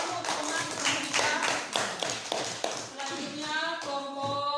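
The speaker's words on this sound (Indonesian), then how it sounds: "Kita tepuk tangan untuk teman kita." A classroom of students applauding classmates after a group presentation, a dense burst of many hands clapping nearby for several seconds, with faint voices toward the end.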